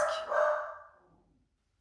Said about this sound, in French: J'arrête pas de couper, de dire au chien de se taire.